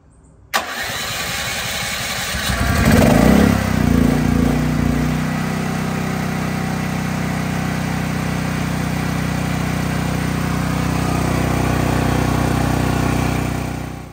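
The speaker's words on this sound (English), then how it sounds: "It's all set to propane, fire it up." A Westinghouse WGen 11500TFC portable generator running on propane cranks with a sharp start, surges up to speed, then settles into a steady, loud, even engine drone close by.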